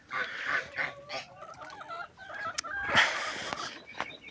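Farmyard geese honk repeatedly at mid distance among mixed poultry calls, with a steady scatter of clucks and squawks around them.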